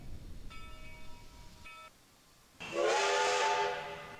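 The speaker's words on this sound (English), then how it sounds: "remain seated until this train comes to a complete stop and you hear one short whistle from the engineer" Steam train whistle in the video game Garry's Mod, on a western-style railway: a short harmonic toot, then a second brief one, followed by a loud, sustained blast with hissing steam, heard alone.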